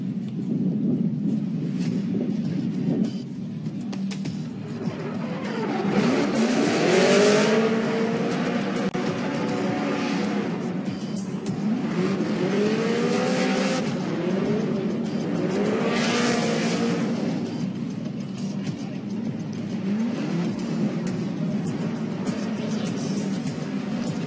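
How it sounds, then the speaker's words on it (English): A Chevrolet Camaro drift car at Formula Drift Long Beach qualifying, its loud engine roaring steadily with repeated rising revs and tire noise as it pushes through the final corner to the finish. "mashes the throttle through the finish line"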